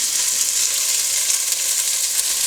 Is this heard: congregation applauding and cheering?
no